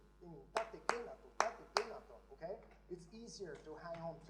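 A few sharp claps or snaps ring out in a sparse rhythm during a guitar masterclass demonstration of clapping on beats one and three, close and crisp, with someone talking between and after them.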